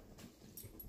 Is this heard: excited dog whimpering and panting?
yes